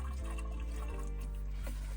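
Coolant is poured without a funnel into the cooling system of a Chevrolet Silverado, a steady, close gurgling and splashing of liquid under a low engine-bay hum.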